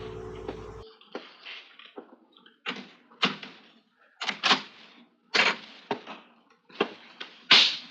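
A radio drama sound effect of someone at the door: a series of sharp knocks or thuds in an uneven rhythm, close and fairly loud, following a brief low hum at the start, with no voices.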